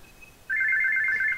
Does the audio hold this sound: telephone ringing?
yes